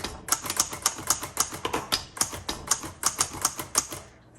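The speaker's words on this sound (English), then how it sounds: "let's go ahead and do some typing" A 1956 Hermes Rocket manual typewriter types in a steady run of crisp, close key strikes, a dozen or more sharp clacks at an uneven typing pace, with no talk over it.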